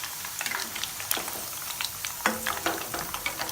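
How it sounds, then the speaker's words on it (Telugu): Onion pakoda frying in oil on a medium flame, a steady soft crackle with scattered sharper pops and bubbling, close and moderately loud with no talk. "మన ఆనియన్ పకోడీ రెడీ అయిందండి. మీడియం ఫ్లేమ్లో ఇలా వేయించుకోండి."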